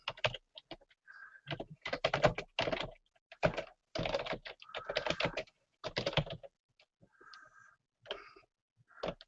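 Computer keyboard typing in bursts of rapid clicking keystrokes with short pauses between, close and fairly quiet, no talking.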